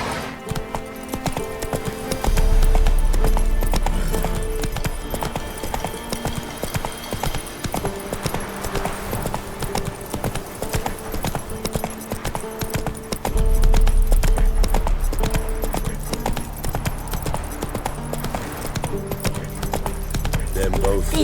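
Roach, the horse in The Witcher 3, gallops with steady rapid clip-clop hoofbeats throughout, set against music and game ambience, with a voice talking over parts of the ride.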